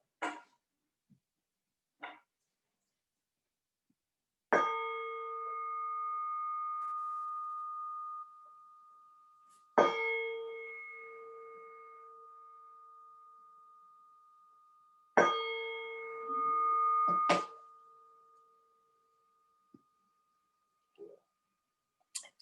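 A meditation bell rings out three times at steady intervals, each strike leaving a clear, sustained tone that slowly fades, with a few faint knocks and rustles in between.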